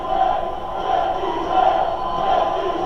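A wrestling arena crowd at the Elimination Chamber 2018 event gives a steady, loud, continuous roar of many voices with gentle swells, no single voice standing out.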